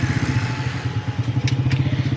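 A used car's engine idles up close at a Friday market in Rawalpindi, with a steady, loud, rhythmic low throb and light mechanical clatter throughout.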